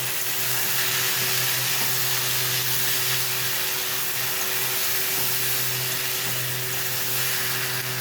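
Cumin, ginger and coriander pastes with asafoetida, black pepper paste and chilli powder sautéing in oil, producing a loud, close, unbroken hissing sizzle with a steady low hum underneath and no voices.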